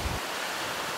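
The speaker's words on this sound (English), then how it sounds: "This wind today is a little crazy, sorry for the noise." Strong wind buffets a microphone outdoors on wooded land, a steady loud roar of rumbling noise filling the whole second.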